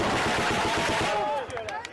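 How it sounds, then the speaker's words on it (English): Loud explosion-like blast with dense crackling broadband noise, followed by fading rumble and scattered sharp cracks, heard alongside speech in a live game or video stream. "Holy shit, that's an explosion."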